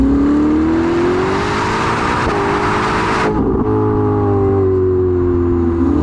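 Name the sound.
Ferrari SF90 Novitec supercar engine accelerating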